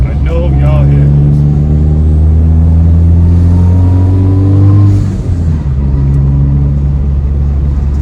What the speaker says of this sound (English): Oh my God, this car sounds terrible.